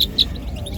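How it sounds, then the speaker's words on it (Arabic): A serin songbird at a Sunday bird market gives two short, high chirps close by, over a low murmur of background noise. "هذا سمريس"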